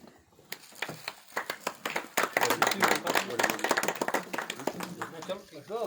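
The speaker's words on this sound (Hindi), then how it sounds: "तालियों से स्वागत किया।" An audience at a school farewell party claps in welcome as bouquets are presented, a steady patter of many hands under a voice talking over it.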